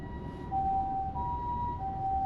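An ambulance or fire engine siren sounds on a street near Osaka Bay in Japan, a loud steady wailing tone shifting pitch in stages over constant road traffic rumble, with no talk.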